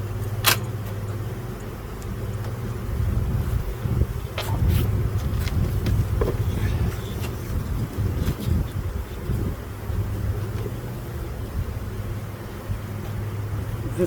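Honeybees drone steadily around an opened hive during a colony split, a continuous low buzz that holds for the whole stretch with a few sharper clicks and taps over it.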